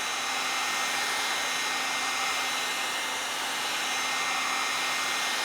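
A heat gun blows steadily on the decals of a Cub Cadet 882 garden tractor, a constant loud whooshing hiss with a faint hum and no breaks.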